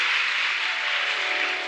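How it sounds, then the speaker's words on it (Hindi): Hearty applause from a large audience at a religious discourse, a dense, even wash of clapping that stays loud for its brief length. "ताली तो आपने बहुत जोर की बजाई"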